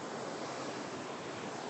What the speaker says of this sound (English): Well, that's a pretty good wave.